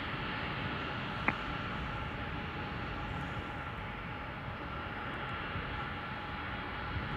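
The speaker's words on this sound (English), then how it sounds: "That aircraft, that United aircraft from Tokyo Haneda just landed" A United airliner arriving from Tokyo Haneda lands at Chicago O'Hare, heard as a faint, distant, steady engine rumble with one brief click partway through.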